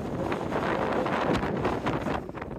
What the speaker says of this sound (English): You can see how much it's having to give to the wind here, despite me being tied heavily as I can